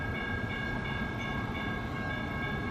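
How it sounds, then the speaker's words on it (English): Passenger train pulling into a station in Portland, Oregon, a steady rumbling roll with a sustained high tonal whine, heard from a moderate distance and fairly quiet. "Here comes our train now."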